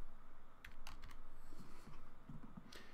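Quick, light keystrokes tap on a computer keyboard in a short irregular run, faint and close against a low background hum, with no speech.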